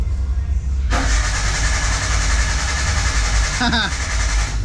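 A car engine cranks and then catches, a sudden loud burst into a running rumble that carries on steadily close by, with a voice speaking over it partway through.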